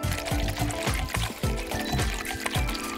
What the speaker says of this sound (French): Je vais verser un peu d'assouplissant pour linge dans un bol.